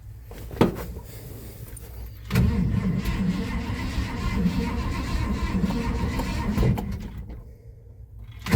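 A 1979 Ford F150 engine cranks and catches after years of sitting, then settles into a steady, rough running rumble, loud and close, that fades near the end.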